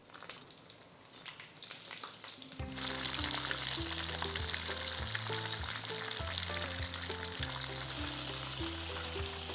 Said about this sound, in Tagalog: Mainit na itong mantika. Fry na ulit natin sa pangalawang pagkakataon.